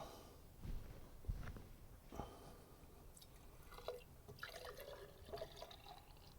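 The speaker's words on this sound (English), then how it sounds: "Pour some clean seafoam in it." Sea Foam cleaner poured into the intake of a Chevy 3.6 V6, a quiet liquid trickle and dripping with a few faint knocks and handling clatter, close but low in level and heard alone.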